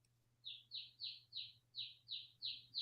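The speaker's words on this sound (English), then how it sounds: "It's my baby chick." A baby chick chirps eight times in a steady, evenly spaced series of short, high peeps, clear and close, with a low hum running underneath and no talk.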